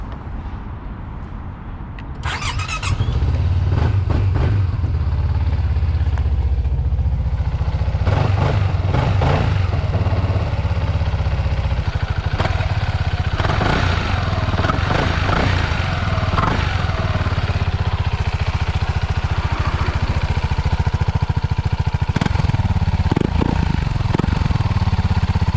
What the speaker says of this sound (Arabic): ودابا نديماري لكم السكوتر.